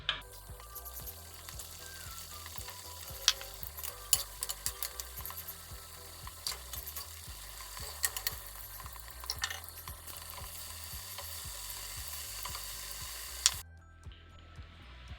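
Cabbage pakoras fry in hot oil, giving a steady close sizzle with frequent small crackles and pops throughout. The sizzle cuts off abruptly near the end.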